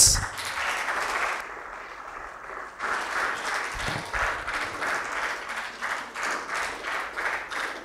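Applause from an audience at an MOU signing ceremony honouring a guest, a steady broadband patter of many hands that eases briefly, then swells back and holds through the end.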